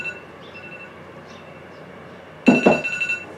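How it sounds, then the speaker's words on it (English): A short electronic phone alarm tone bursts in sharply near the end, ringing loudly in a few quick pulses over a quiet background hum. "That's my alarm."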